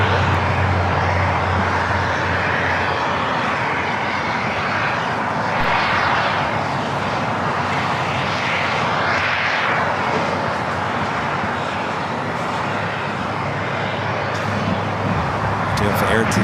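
An Air Tahiti Nui airliner, flight 7 bound for Papeete, takes off from the north side at LAX as a steady, broad jet-engine roar that holds loud throughout, with distant traffic and a voice speaking over it.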